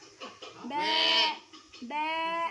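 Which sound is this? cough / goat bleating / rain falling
goat bleating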